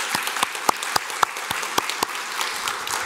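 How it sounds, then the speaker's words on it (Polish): An audience claps at an award ceremony naming school innovation ambassadors. The applause is a moderate, steady patter with several sharper, louder individual claps standing out at regular intervals, then thins toward the end. "Brawa dla was wszystkich."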